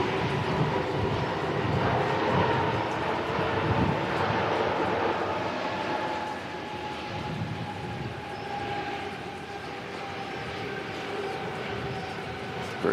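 An airplane lands at Christchurch Airport in wet, windy weather, its engine roar a broad, steady rumble that stays loud and continuous before easing slightly as it rolls on.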